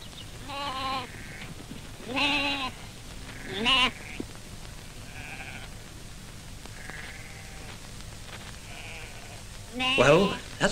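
Devon Closewool ewes and newborn lambs bleat at lambing time, several wavering calls at varying distances, some loud and close and others fainter, with quiet pauses between them.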